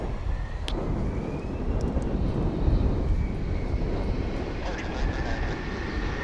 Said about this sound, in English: It's an Airbus A321 American Airlines Flight 2195.